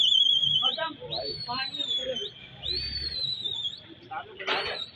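Several sharp whistles ring out, some rising and falling, over a noisy crowd with voices in the background at a pigeon race in Pakistan.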